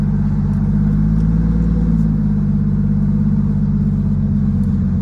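A Nissan Z with a broken driveline holds on the trans brake, its engine producing a loud, steady, deep rumbling drone close by with slight wavering, without clear separate revs.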